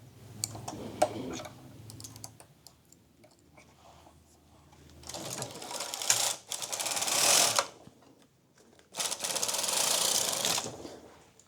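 A knitting machine works a sweater sleeve with repeated passes of the carriage. Each pass makes a loud mechanical whirring rattle, first briefly and then in two longer sweeps, with quieter clicking in between.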